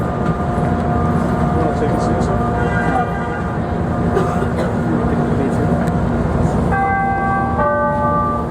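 A Chicago CTA Orange Line elevated train rumbles steadily through the Loop, with a loud low drone, squealing tonal whines from the wheels and rails, and a brief chiming tone near the end. No one speaks.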